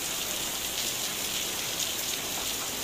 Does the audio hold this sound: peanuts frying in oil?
no